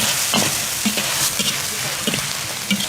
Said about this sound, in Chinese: 炒香以后下入猪肉，五花肉炒出油以后加点老抽